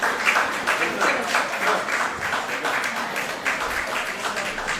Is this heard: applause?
yes